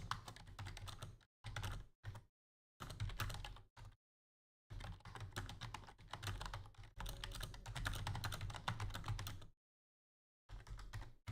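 Fast typing on a computer keyboard in bursts, dense clattering keystrokes separated by short silent pauses, close and clear with no talking.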